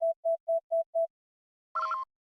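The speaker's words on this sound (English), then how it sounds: "the game, for some reason, is outputting this sound at a different pitch to what it was in the original." Five short, evenly spaced electronic beeps at a steady mid pitch, a pause, then a brief louder burst of harsher tone: the 2024 Battlefront Classic Collection loading screen sounds, at a different pitch from the 2004 original.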